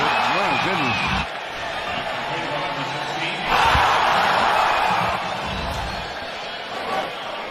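Basketball arena crowd roars and cheers under an excited play-by-play commentator, with a louder surge of applause midway before settling back into a steady murmur.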